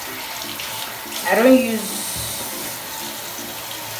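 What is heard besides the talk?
tap water running while washing face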